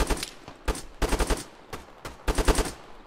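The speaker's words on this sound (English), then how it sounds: "Oh, they're shooting." Several bursts of automatic gunfire from an Arma 3 firefight, loud and close, in four rapid clusters separated by brief pauses.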